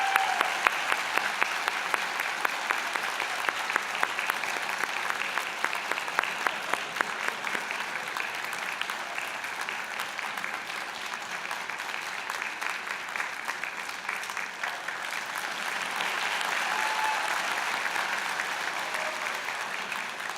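Warm, sustained audience applause for a college band at a fall convocation ceremony, a loud, even wash of many hands clapping that carries on steadily without voices.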